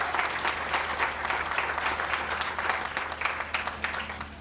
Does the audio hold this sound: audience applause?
yes